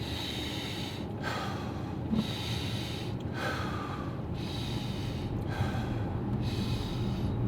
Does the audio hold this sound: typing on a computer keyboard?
no